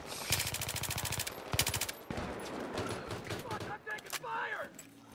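Rapid automatic gunfire bursts in Battlefield 3, loud and close, with repeated volleys in the first two seconds and scattered shots and game noise after, while players talk over the action.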